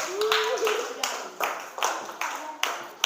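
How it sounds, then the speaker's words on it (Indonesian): A short burst of hand clapping from a group, several claps in quick succession, with voices talking over it. "Tepuk tangan dulu untuk Mas Alipin."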